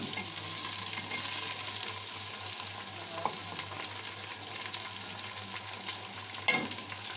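Tomatoes and green chilies frying with browned onions in a pan make a steady, close sizzle, with a brief clatter of stirring near the end and no voices.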